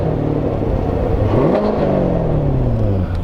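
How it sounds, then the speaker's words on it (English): A 2019 Chevrolet Corvette engine rumbles and revs with a smooth, fairly subdued exhaust note in its muted touring mode, pitch rising and falling as it accelerates, close and steady. "the exhaust is going to be a little bit more muted"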